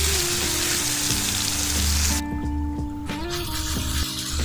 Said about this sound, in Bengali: এখন 1 ঘন্টা পর আমি চিকেনটাকে ভেজে নেব।